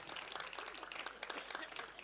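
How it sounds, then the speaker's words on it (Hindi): Audience in a Hindi comedy show claps together in a dense, steady burst of applause, fairly faint and distant, with no voice over it. "आपको विश्वास हो तो ताली बजा देना।"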